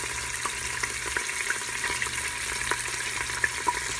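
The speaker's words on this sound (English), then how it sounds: "Can you hear it sizzling? I'm gonna let it just kind of brown on that side" Marinated pork loin with herbs sizzles steadily as it browns in a pot, a constant close crackle dotted with sharper pops and small spatters, no talking.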